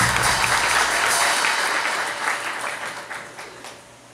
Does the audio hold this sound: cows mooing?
no